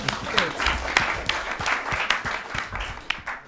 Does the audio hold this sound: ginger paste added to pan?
no